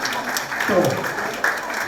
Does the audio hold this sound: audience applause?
yes